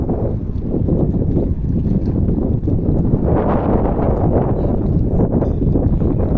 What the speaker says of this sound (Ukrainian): вітер капець. Якщо буде погано чути, то я вибачаюсь